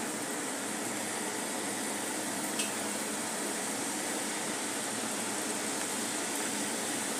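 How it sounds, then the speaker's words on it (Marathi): Mathri dough frying in hot oil over medium heat, a dense, steady sizzle and bubbling hiss running unbroken throughout with no voices. "अशा प्रकारे मी तळून घेते आहे"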